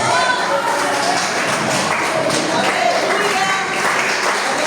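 A Pentecostal church congregation applauds in a dense, sustained wash of clapping, mixed with voices calling out over it.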